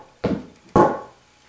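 Two sharp knocks of a wooden 2x4 board being struck, close by, the second louder with a short ringing decay.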